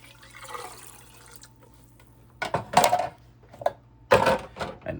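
Port wine and other liquids, white wine vinegar and water, splash in two short, close bursts into a pork sauerbraten marinade, with quiet gaps between.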